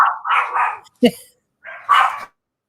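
A neighbor's dogs bark in several loud, close bursts with brief pauses between them, sharp woofs and yips standing alone.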